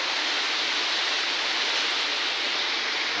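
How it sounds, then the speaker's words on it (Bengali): Heavy rain pours in a dense, steady hiss, loud and unbroken, with strong wind adding to the wash of noise and no voices. "এদিকে আরো বৃষ্টি দেখো আরো বেড়েছে, দেখো প্রচন্ড হাওয়া হচ্ছে এখন"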